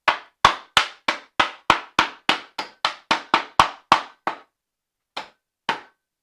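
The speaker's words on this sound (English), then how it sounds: "Use my little hammer and beat the hell out of it." Small hammer pounding ice in a canvas Lewis bag for a 1940s Hurricane rum cocktail: about fourteen sharp, close thuds in a steady rhythm, then a pause and two final blows.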